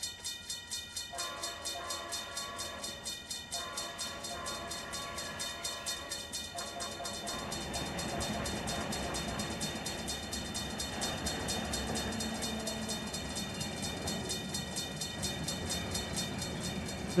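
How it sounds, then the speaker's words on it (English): A freight train in the Run 8 train simulator game rolls past, with a sustained horn blast and steady rumbling wagons alongside rhythmic clatter of the cars. "As the train's across the road"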